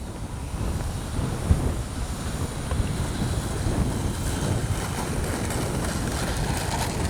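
Strong gusty wind buffets the microphone outdoors at an RC jet flying session, where a 64mm Marlin is in the air. The roar is a loud, steady rumble with a few sharper bumps.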